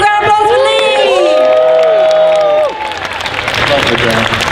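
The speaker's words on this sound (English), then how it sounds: "Everyone, a big round of applause for Lee!" A costume contest crowd claps and cheers, starting with loud whoops over the clapping and then settling into steady applause.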